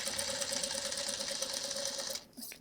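A home sewing machine stitches a quilt block for a LeMoyne Star, running forward then back-stitching in a steady fast whir with a clear motor hum, then stopping abruptly near the end.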